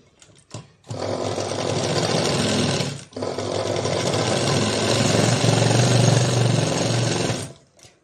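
A sewing machine stitches a blouse seam in one long, loud, continuous whir, briefly stopping for a moment before running on again, with nobody talking.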